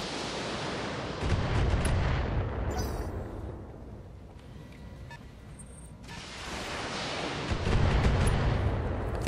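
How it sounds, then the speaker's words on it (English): In the BattleTech video game, a barrage of missiles strikes in heavy rumbling booms and rolling explosions. The roar swells, dips to a quieter stretch, then surges again, loud and continuous. "I think we can withstand the peppering of missiles."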